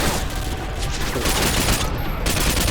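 Dense, loud gunfire from the video game Call of Duty Modern Warfare 2, a rapid continuous barrage of shots filling the whole stretch without pause.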